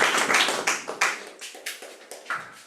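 A few participants in a team meeting clap in a short, sparse burst, each sharp hand clap distinct and close, tapering off over a couple of seconds.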